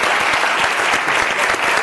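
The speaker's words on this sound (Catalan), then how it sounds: "Un aplaudiment també per tu." A studio audience on a Catalan TV show claps steadily, a dense, even wash of applause filling the whole moment without a break.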